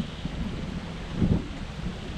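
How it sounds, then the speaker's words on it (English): Wind gusts across a farm campsite beside a caravan, a steady low rumbling roar that swells briefly in the middle before easing back. "Bit windy."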